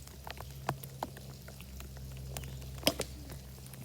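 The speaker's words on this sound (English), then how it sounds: "I'm doing my drills right now in the rain." Rain falling outdoors during baseball drills, a steady soft patter with scattered sharper drops and a louder splat near the end, no voices.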